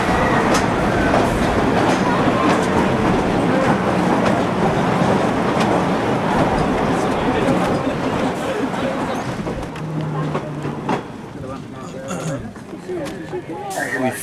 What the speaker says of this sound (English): Really funky monorail type deal.